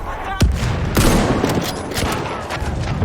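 In the Battlefield 1 video game, bursts of gunfire crack out during a battle, with sharp close shots and rattling fire layered over a busy, noisy background.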